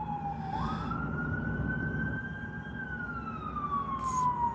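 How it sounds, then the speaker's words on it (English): Emergency vehicle siren wailing in a steady rising and falling sweep over low road rumble, fairly close and continuous, with no one talking. "Sirens."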